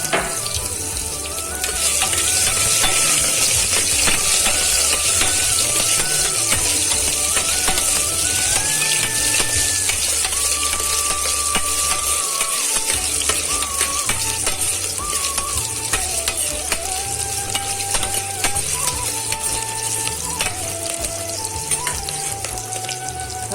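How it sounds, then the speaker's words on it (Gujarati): Potatoes stirred into a hot tempering of crackling mustard seeds for a Gujarati potato curry, giving a steady loud sizzle and frying hiss with scraping and stirring throughout, no talking. "રાઈ તતડી જાય ત્યાર પછી હવે આપણે બટેકું ઉમેરી દેશું"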